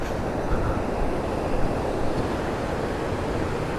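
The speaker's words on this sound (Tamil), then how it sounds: "தண்ணி எப்படி போகுதுன்னு பார்ப்போம்." Water rushes through a road broken up by a landslide near Manali, a steady, loud, broadband roar of flowing water with no pauses and no voices.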